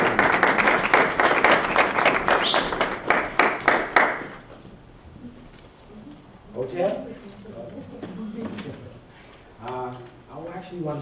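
An audience applauds for a speaker at an ethnic studies event, a burst of clapping that stops after about four seconds, followed by someone speaking alone.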